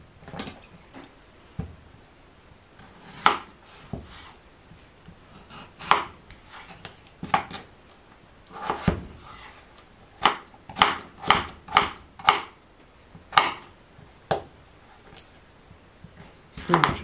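A knife chops potatoes into slices on a cutting board for a Provençal soupe au pistou, with sharp close-up knocks at an irregular pace that speed into a quick run of cuts. Faint speech is heard between the chops.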